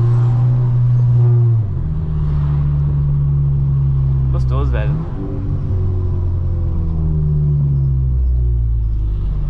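An Audi with automatic transmission in Sport mode accelerates, its engine rumbling steadily and holding a gear, with a brief rise in pitch around the middle; nearby voices talk over the engine throughout.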